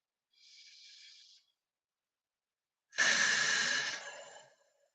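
Deep breathing: one soft, airy inhale, a second of silence, then a longer, louder, breathy exhale that fades out, close and alone.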